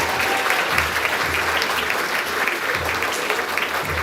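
An audience at a grades 4-6 school awards assembly applauds in a steady, dense round of clapping that fills the whole stretch with no talk over it.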